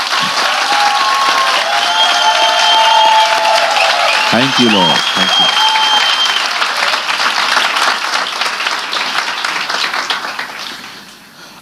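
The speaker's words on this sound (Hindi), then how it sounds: "क्या हम सब मिलके यीशु के लिए ताली बजा सकते हैं?" A church congregation claps together for Jesus in a loud, sustained burst of applause that tapers off near the end, while a voice speaks over it.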